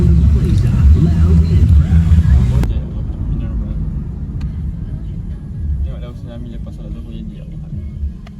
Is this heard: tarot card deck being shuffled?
no